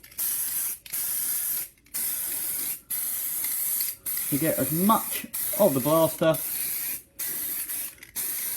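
Spray primer hissing from a can onto the inside of toy blasters, heard as repeated loud steady bursts of spray separated by short pauses, with someone talking briefly between bursts.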